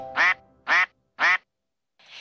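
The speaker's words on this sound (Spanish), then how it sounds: "Quieren oír el pato dice así." Three loud, evenly spaced duck quacks from a children's song about Noah's ark, each a short nasal burst with a pause between, followed by the faint start of another sound.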